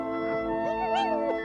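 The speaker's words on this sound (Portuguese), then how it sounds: "Tem um cachorro na floresta." A cartoon dog in a forest lets out a tonal, wavering howl with rising and falling pitch and a short yip near the end, heard clearly over a sustained musical backing.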